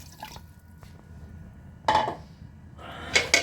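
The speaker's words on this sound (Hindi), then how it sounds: "अब इसमें हम डालेंगे पानी।" Water poured into a pot of browned mutton and potatoes, heard as a couple of short splashing bursts with quiet gaps between, fairly close and with no talking.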